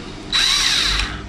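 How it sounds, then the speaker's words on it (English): A power drill whines loudly for under a second as it drives a screw into a hard drive, with a steady high-pitched motor tone that starts abruptly and cuts off. "Let's see if the drill fits these."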